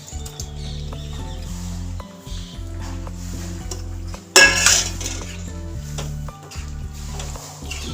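Dry macaroni pasta tumbles into a metal pan of spices with a sharp clattering burst, set among scattered clinks and scrapes of utensils against the pan.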